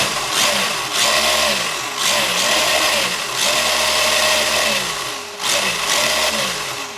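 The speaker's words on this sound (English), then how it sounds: "And then you just so you hear the motor before we get out on the field." Electric motor of a Rlaarlo XTS S10 RC car revving up and down in repeated bursts, a loud whining buzz that rises and falls in waves over several seconds, close by with no talk.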